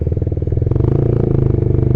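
Honda CBR150R motorcycle fitted with an RX8 aftermarket exhaust with a long silencer of about 30 cm: a close, loud, bassy idle of rapid, even pulses that firms up slightly partway through.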